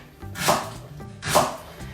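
A knife slices leeks into rounds on a cutting board, giving two distinct, close chopping strokes about a second apart, with no voices.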